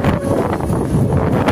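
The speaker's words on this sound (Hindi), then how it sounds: "बट नहीं, सिर्फ ठंडी हवा है, आपको आवाज़ सुनाई दे रही है" Cold wind buffeting a microphone while riding a scooter, a continuous loud roaring rush with steady low rumble and no clear pauses throughout.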